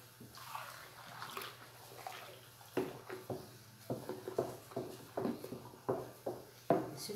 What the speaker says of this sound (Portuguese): estão vendo a água em movimento, já mexi, tá?